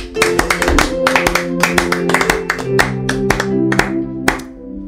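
Congregation at a church radio service breaks into applause, a dense run of hand claps with sharper accents across the clip.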